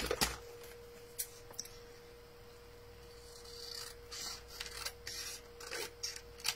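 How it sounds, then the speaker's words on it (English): Decorative paper being trimmed for a seaside-themed craft piece: soft, scattered snips and rustling scrapes, close and quiet, with a few sharper clicks and a brief busier patch toward the end. "And I just need to trim this one off ever so slightly."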